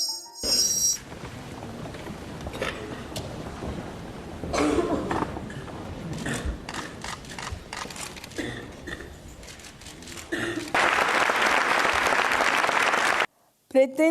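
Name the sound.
ovation and cheering at the Premio Cervantes ceremony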